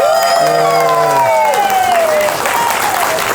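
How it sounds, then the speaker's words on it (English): A crowd at a theater event applauds a construction team with continuous clapping and cheering, while whoops and shouted voices rise above the clapping. "So let's give them a round of applause."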